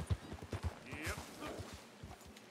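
Rhythmic hoofbeats of a galloping horse in the video game Red Dead Redemption 2 thud steadily at moderate volume, with a brief higher whinny-like sound partway through.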